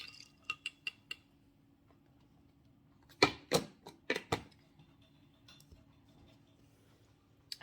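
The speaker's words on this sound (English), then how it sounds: "Give it a stir." A spoon stirring homemade cordial with ice in a cup, giving sharp clinks: a few quick taps, then a louder cluster of rattling knocks in the middle and scattered faint ticks afterward, close by with no voices.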